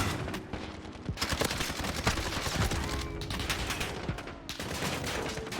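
Rapid game gunfire from shooting easy bots in Warzone aim practice, with dense bursts and bangs running almost without a break through the whole stretch.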